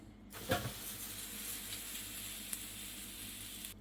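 Soft, steady sizzling hiss of butter frying on toast in a sandwich press, with a faint scrape near the start. Quiet and close, no voices.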